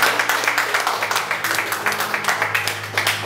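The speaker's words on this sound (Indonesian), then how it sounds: "kita tepuk tangan dulu" An audience at a military talk breaks into applause, dense rapid clapping from many hands sustained for several seconds at a loud, even level.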